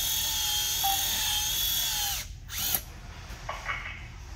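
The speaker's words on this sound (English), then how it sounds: "you're going to drill down through" Power drill boring into a puncture hole in a tire during a repair: a steady high whine that stops abruptly, followed by brief start-ups and spin-downs, close and loud.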